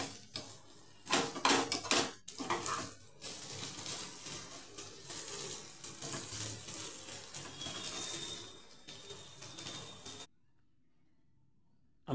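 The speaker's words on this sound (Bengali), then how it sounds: "আমি আবারও এটাকে ঢাক দিয়ে দিচ্ছি।" A metal lid set down over a cooking pot of softening onions and raw tomatoes, with a few clattering knocks near the start over a steady hiss of steam, ending in abrupt silence.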